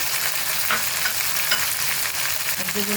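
Ginger garlic paste and chopped tomatoes fry in a pan, giving a steady, dense sizzle with a few soft stirring scrapes, close and continuous with no talking.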